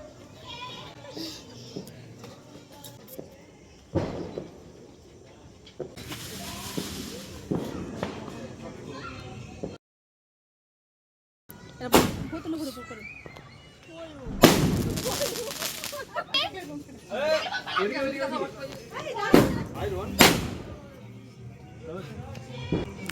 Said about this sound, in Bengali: এদিকে সব মামা মেশো ভাই বাজি ফাটাচ্ছে